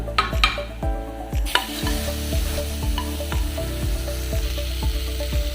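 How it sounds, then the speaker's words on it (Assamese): Fenugreek seeds sizzle in hot oil left from frying fish while a spoon scrapes the pan in an even, repeated stirring rhythm, close up, after a few clinks. "মাছ ভাজি ৰৌজা তেলখিনিতে মই অকণমান মেথি গুটি ফুটাই লৈছোঁ"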